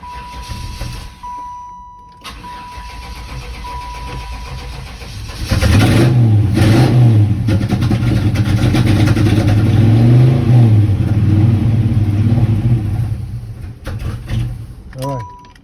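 A Chevrolet Impala SS with a freshly replaced opti-spark cranks over, catches with a few pops, then revs loudly up and down at close range, settling back between blips before cutting off; a faint high tone and some rustling come before the start.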